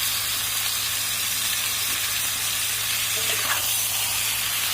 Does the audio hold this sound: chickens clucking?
no